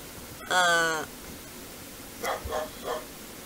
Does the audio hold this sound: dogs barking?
yes